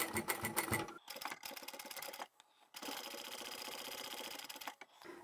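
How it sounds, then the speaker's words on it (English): A sewing machine triple stitches over the tab of a small fabric coin pouch made from scraps, its rapid mechanical needle chatter running in close, steady runs broken by brief pauses. "I'll triple stitch over the tab."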